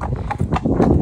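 Hooves of horses on a hack ride clip-clopping in a quick, close, uneven rhythm of several distinct strikes over a low outdoor background, with no speech.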